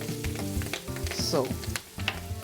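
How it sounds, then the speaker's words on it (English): Carrots sizzle and crackle in hot oil in a pot, with a steady frying hiss and some stirring clatter; a voice says a brief word. "y'all hear it sizzling?"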